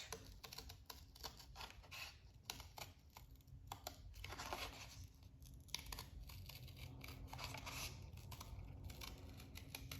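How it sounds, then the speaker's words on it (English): Scissors cut carefully along a line to trim a paper heart out of a sheet, giving a steady, close series of small snips and paper rustles that run without pause. "Cut very carefully and try to stay on the line"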